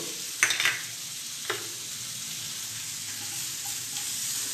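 Butter melts in a hot pan over low heat, giving a steady, moderate hiss. A few clinks and scrapes of a utensil come near the start.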